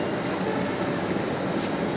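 A loud, steady rumble and hum fill the air from a Dhaka metro rail train waiting at a station platform, with a constant mechanical drone.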